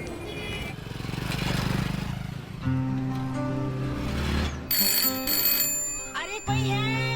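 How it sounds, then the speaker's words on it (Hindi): A telephone rings in repeated bursts over a busy mix of engine-like noise and tones, loud and close. "अरे कोई है, फोन तो उठाओ।"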